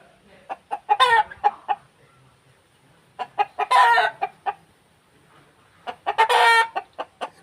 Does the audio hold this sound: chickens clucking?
yes